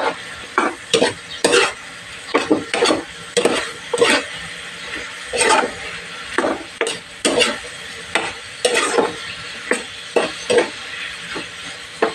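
A home-cooked breakfast dish sizzles in a pan as it is stirred after a bouillon cube goes in. Loud rhythmic scrapes and swishes of a utensil repeat close up over a constant frying hiss, with no talking.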